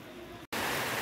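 Heavy monsoon rain pours near Padasare waterfall in the Sudhagad hills, making a dense, steady broadband roar that cuts out for a split second and then returns louder.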